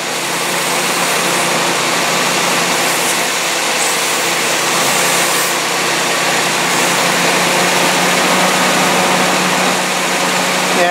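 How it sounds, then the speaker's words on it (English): An old Nissan pickup truck engine idles loudly and close, running rough, with a continuous broadband rumble that wavers slightly as it runs, with no voices over it. "It's running a little rough"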